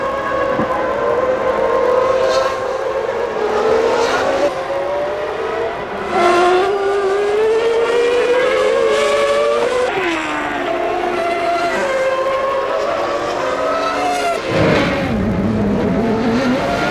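Ferrari Formula One car at the 1995 Canadian Grand Prix, its high engine note screaming and shifting pitch as cars pass and accelerate through traffic, loud and continuous with several distinct passes.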